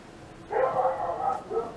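A dog barks in a short, close burst of a few yips lasting under two seconds, moderately loud against a quiet background.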